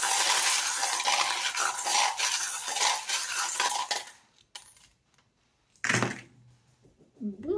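Divination charms are shaken and cast: a long jangling, clattering rattle of small metal pieces, then a pause and a sharp scatter of pieces landing, followed by a few light clinks, heard up close without talk.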